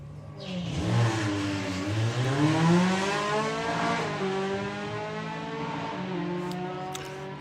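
A Volkswagen Corrado makes a drag racing run at a strip, its engine revving hard with rising and falling harmonics that climb through gear changes, loud and close throughout with no talk over it.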